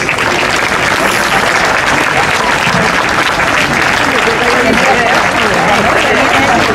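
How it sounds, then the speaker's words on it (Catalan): A crowd at the Puig-reig town festival opening speech applauds steadily and loudly for several seconds, a dense wash of clapping with no break. "un fort aplaudiment"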